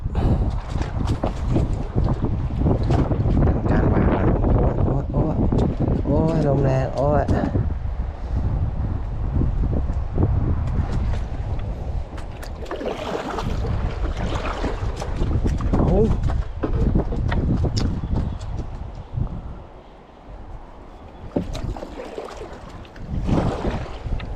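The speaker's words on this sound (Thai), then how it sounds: "ลมแรงครับ" Strong wind buffets the microphone on a boat at sea while shrimp traps are hauled in, a loud continuous roar with gusts, voices talking over it.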